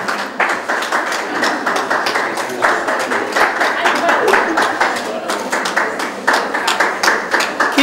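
Audience applause and clapping at a pageant, loud and sustained with dense overlapping claps throughout, no voices standing out.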